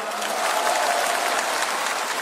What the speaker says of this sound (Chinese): 如果阿爸级，俾啲掌声我听下好啊！